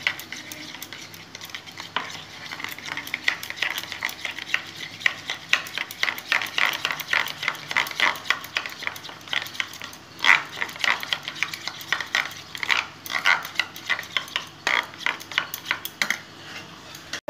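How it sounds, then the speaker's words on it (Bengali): Dry-roasted cumin and coriander spice is whisked into yogurt in a bowl, making fast, rhythmic scraping strokes with small clinks, close and continuous, with no voices. "মশলাটা ভালো করে ফেটে নেব।"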